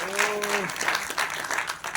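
Audience applause for a singer at a Marathi film trailer launch, steady clapping from a crowd filling the whole moment, with a brief sustained voice or tone fading out near the start.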